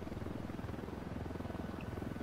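Helicopter rotor in the video game Ghost Recon Wildlands, a steady low pulsing thrum heard faintly and continuously with no talk.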